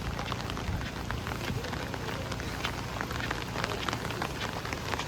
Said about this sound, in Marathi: परवाच्या दिवशीपासून पाऊस पडतो आहे रात्रीपासून भरपूर जोर घेतला आहे